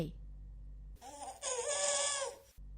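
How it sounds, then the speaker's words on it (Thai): A newborn baby's cry wails out in rising and falling sobbing breaths, loud and close, sounding alone for a couple of seconds after a low rumbling background cuts away. "เสียงร้องไห้ของทารกเสียงหนึ่งกลับดังขึ้นอย่างน่าเวทนา"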